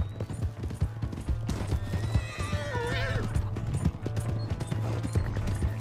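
A horse in Red Dead Redemption 2 whinnies loudly in the middle of the clip while steady clip-clop hoofbeats run throughout under a low rumbling backdrop.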